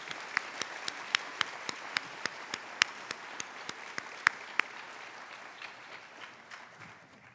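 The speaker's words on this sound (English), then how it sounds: "I'd like to just give another round of applause to our speakers." An audience at a medical conference general session at the Mayo Clinic in Rochester, MN applauds its speakers with a soft wash of clapping. A few sharp, distinct claps stand out before the applause thins and fades away.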